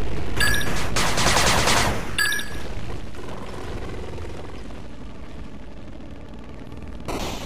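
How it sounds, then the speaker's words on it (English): A machine gun turret firing in the strategy game 8-bit Armies, with loud rapid bursts of gunfire at the start, then quieter battle noise and a final burst. "Machine gun turret under attack."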